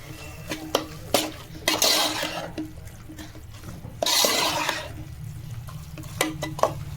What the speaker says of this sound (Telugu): ఇప్పుడు అయితే నేను అల్లం వెల్లుల్లిపాయ పేస్ట్ వేస్తున్నాను ఒకసారి బాగా కలిపేస్తాను